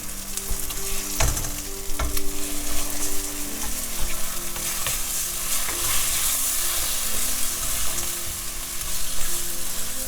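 Egg and rice sizzling in a hot pan for spicy spinach fried rice, a steady frying hiss with clanks of a spoon stirring and scraping the pan.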